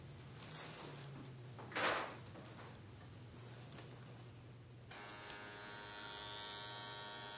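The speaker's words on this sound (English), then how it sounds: "I'll go ahead and plug it up where you can hear it, see how it runs." A Bigwasp cartridge pen rotary tattoo machine switches on partway through and runs with a steady, quiet electric hum and faint whine, preceded by a few soft handling knocks.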